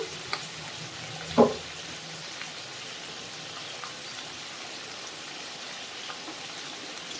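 Spiced chicken with turmeric and salt sizzles softly in a pan, with a faint continuous frying hiss and one sharp scrape of stirring early on, otherwise low and steady.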